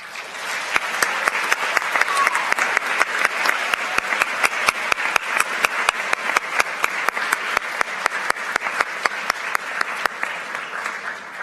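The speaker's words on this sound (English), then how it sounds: "Students, please rise to receive our applause." Sustained applause from a large crowd at a school awards ceremony, steady dense clapping filling the whole stretch without a break, loud and close.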